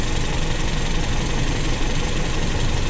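Toyota Kijang engine idling steadily during carburetor idle-mixture adjustment, a continuous low, even rumble with a slight vibrating throb, close up and with no talk.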